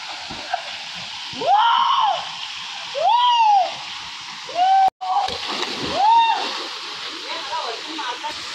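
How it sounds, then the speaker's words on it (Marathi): A natural waterfall in Rajapur taluka in the Konkan splashes with a constant loud wash of water. Several long rising-and-falling voice calls echo over it, and a sharp knock sounds partway through. "नॅचरल धबधबा आहे."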